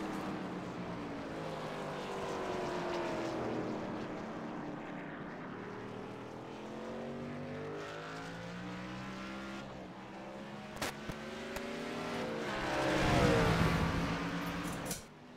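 A race car lapping the 2.11-mile Mid Ohio track at a RedLight Racing Series night race, its engine note rising and falling through gear changes as it passes, distant at first and then louder and closer near the end.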